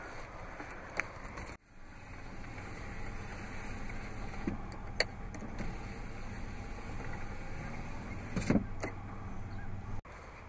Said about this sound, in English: also has a power sunroof